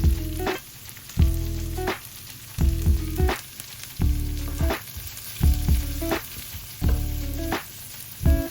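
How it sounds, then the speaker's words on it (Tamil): Oil sizzling loudly as carrots fry, with repeated bursts of crackle and clatter from stirring or tossing in the pan, no voices. "இப்போ கேரட்டை பொரிக்க போகிறோம் நாங்கள்."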